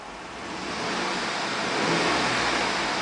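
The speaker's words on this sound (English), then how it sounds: "I'm going to rev the engine." A 2010 Chevrolet Tahoe engine running with the revs climbing, a steady broadband roar that grows louder after the first second and holds high and close, with no voices.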